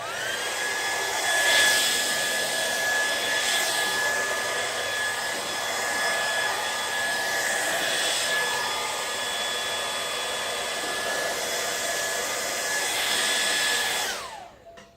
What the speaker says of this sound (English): I'm going to put my hairdryer on cool, and let's get started.